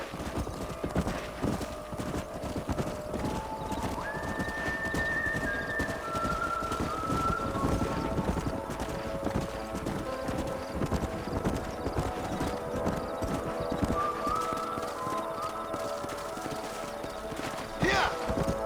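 Horses clip-clop steadily with an occasional neigh in the Western video game Red Dead Redemption, hooves loud and continuous alongside music and brief voices, ending on a sharp whinny.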